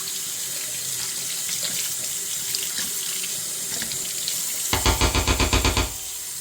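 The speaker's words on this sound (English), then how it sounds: "Rinse this out with some hot water." Hot water runs from a kitchen sink tap for rinsing, a steady close splash that swells louder near the end as the stream strikes something in the basin, with no voices.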